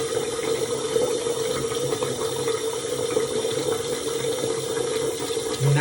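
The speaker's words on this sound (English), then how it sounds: "So I'm going to wash my hands with it." A steady stream of tap water runs over hands being washed with vegan soap at a sink, a continuous close splashing hiss that stays even throughout without talk.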